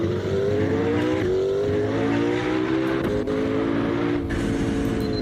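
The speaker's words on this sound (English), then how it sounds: "The blow-off valve, the turbo, when you gear down, the sound the car makes when you gear" A turbocharged race car in the Assetto Corsa video game drones steadily and loudly at close range, with its pitch stepping up and down through the gears and faint blow-off valve chatter and pops at each downshift.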